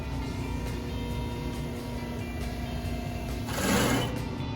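A lap seam chain stitch sewing machine, model 35800, used for sewing jeans, runs with a steady fast mechanical whir throughout, growing briefly louder near the end.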